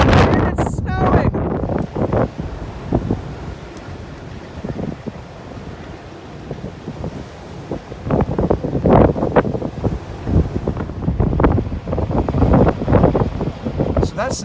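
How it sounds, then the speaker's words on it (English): Strong, gusty wind in a snowstorm roars across the microphone, rising and falling in bursts, with loud buffeting rumble throughout and faint rustling underneath. "It's really windy,"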